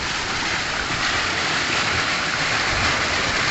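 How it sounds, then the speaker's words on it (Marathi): Rainwater gushing and rushing through a field after heavy rain in Latur district, a dense, loud, unbroken roar of flowing water, close and steady throughout with no talking. "आवाज तर तुम्हाला खळखळ येत असेल पाण्याचा"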